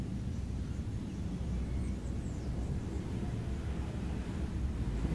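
A United Airlines Boeing 787 approaches Guarulhos airport for a second landing attempt, heard as a steady, distant low roar of jet engines mixed with wind noise, with no talk.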